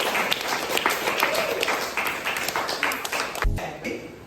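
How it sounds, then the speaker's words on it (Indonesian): A classroom audience claps after a group presentation, a steady patter of applause running throughout with a brief louder knock near the end. "Berikan aplaus."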